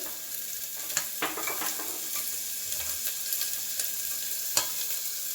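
Carrots and other vegetables sizzle steadily in a hot pan for palak bath, a continuous bright hiss broken by a few clinks and scrapes of stirring, with no one talking.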